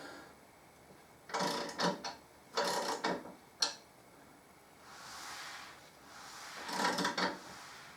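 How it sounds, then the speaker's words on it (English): Harley Davidson Deuce trike wheel being spun by hand with balancing beads inside the tyre, giving several short rattling, rushing bursts that swell and fade, close and fairly quiet with no talk. "It's got balancing beads in the tyre, so that's what you can actually hear."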